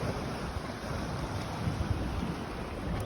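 Sea waves wash steadily around a waterside tunnel at Admiralty House park, a broad, continuous surf and wind rush with no talk over it.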